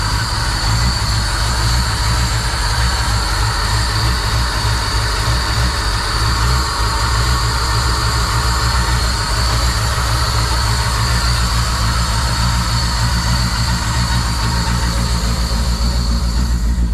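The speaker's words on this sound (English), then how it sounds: "Interested to see what it's going to sound like with this new exhaust." A C10 truck engine running with a newly fitted exhaust, a loud, steady, deep rumbling drone that holds continuously close up with no talk over it.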